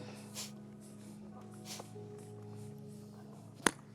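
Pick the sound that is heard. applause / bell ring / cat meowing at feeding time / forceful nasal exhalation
forceful nasal exhalation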